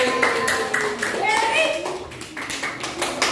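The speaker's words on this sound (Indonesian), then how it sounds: "Oke, beri tepuk tangan buat Silva." Children in a classroom clap for a classmate named Silva, quick light claps overlapping with children's chatter and voices throughout.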